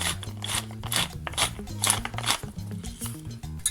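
A pepper mill grinds pepper in a home kitchen, giving repeated gritty, ratcheting crunches in a steady twisting rhythm, close and moderately quiet.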